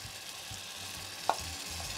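Broth splashes into a hot pan over marinated fish, a brief sharp pour-hit landing on a steady low sizzle of frying that carries on throughout.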